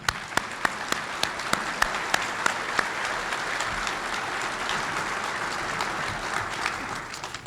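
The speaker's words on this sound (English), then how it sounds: "We owe them a round of applause in appreciation for their service." An audience at a State of the City address applauds people in uniform with steady, sustained clapping that fills the room, while a few sharper claps stand out near the microphone, with no speech over it.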